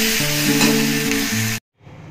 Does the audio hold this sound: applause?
no